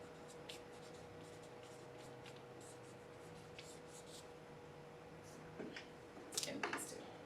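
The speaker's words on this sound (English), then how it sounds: "So let's just write contrast in our margin." A pencil scratches a short note into a book margin in quick, faint strokes, followed by a few louder scuffs of paper near the end.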